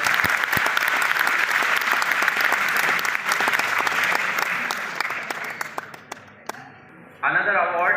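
A large audience at an award ceremony at the ICUMSAT 2023 event, Bundelkhand University, Jhansi, claps in dense, sustained applause that gradually thins and fades before a voice briefly speaks at the end.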